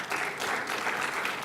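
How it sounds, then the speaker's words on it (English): Audience applause at a youth event for women innovators, a brief dense burst of many hands clapping at moderate volume. "I believe they deserve another round of hand clap"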